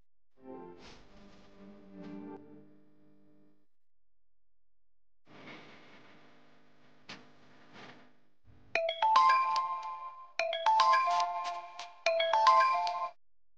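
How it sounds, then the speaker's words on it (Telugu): A mobile phone rings with three loud, bright melodic bursts in a repeating pattern near the end. Quieter tonal sounds come before it, separated by silence. "నవ్య, ఏంట్రా ఈ టైంలో ఫోన్ చేసావు?"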